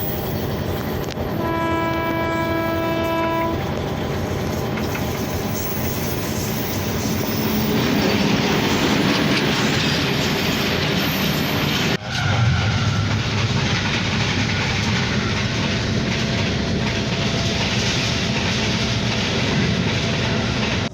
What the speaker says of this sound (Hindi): हज़ारा एक्सप्रेस रुकी है पिछले 15 मिनट से, अब ट्रेन पहुंच गई है।